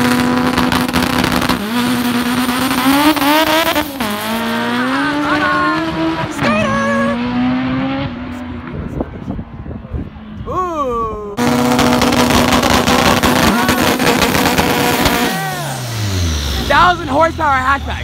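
A 1,200 horsepower turbocharged Honda Civic hatchback at an Import vs Outlaws drag racing event roars loudly with rising and falling engine pitch and crackling pops, while a person talks over the noise.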